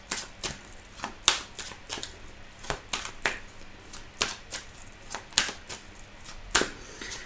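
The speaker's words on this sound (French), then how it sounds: "je vais continuer de mélanger et ensuite je vais poser les cartes" Tarot cards being shuffled by hand, a series of crisp, separate slaps and riffles coming in an irregular rhythm about once or twice a second, close and fairly quiet, with no talking.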